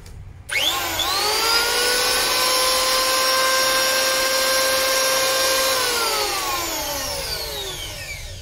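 A Makita electric planer spins up sharply from silence to a steady, loud whine with bright harmonic tones, runs evenly for several seconds, then winds down with falling pitch as the motor coasts to a stop.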